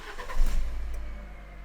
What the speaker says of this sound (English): So, let's start the engine up anyway.